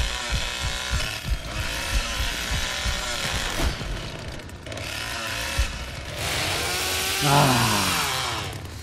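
A revving chainsaw in The Texas Chain Saw Massacre video game, a rough motor drone that rises and falls through the clip, with a louder surge and whine near the end, mixed with game noise.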